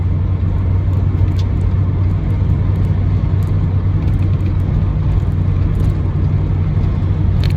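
Peugeot 205 GTi 1.9 cruising at a steady 3,000 RPM around 80 km/h, a constant low engine drone and road rumble heard from inside the car, with no talking.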